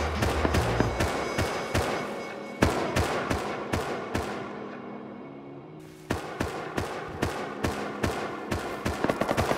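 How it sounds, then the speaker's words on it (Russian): Repeated sharp Berdan rifle gunshots in a video game crack in a steady rhythm, with one heavier blast midway and a short lull before the firing resumes; no voices. "там стреляют с берданки"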